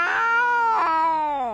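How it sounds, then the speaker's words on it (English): A cat gives two loud, close, drawn-out meows in quick succession, whiny and wavering, with no talking over them. "this cat"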